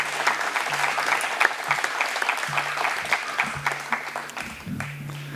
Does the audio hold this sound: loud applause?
yes